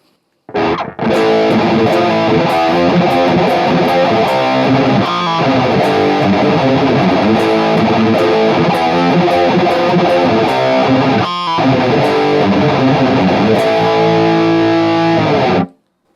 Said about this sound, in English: So it's a very modern distortion style